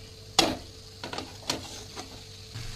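Cooked rice is tipped and stirred into a hot frying pan for tomato rice, a few soft scraping stirs spaced out over a faint steady sizzle.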